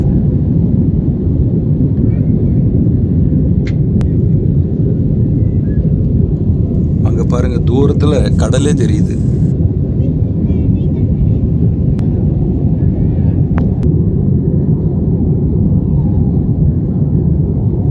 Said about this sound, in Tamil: விமானம் புறப்பட்டுருச்சு.